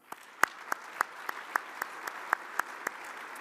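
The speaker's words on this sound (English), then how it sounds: "One more round of applause for Dr. Perryman." Audience applause after an economic outlook talk: a small, fairly faint round of evenly spaced claps, almost like one or two people clapping steadily, with no talk over it.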